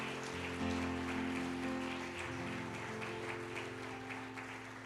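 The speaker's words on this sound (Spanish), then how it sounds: "Si le va a dar un aplauso, déselo" Church congregation applauding, a steady wash of clapping under sustained organ or keyboard chords, moderately loud and continuous throughout.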